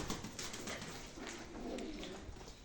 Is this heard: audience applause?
no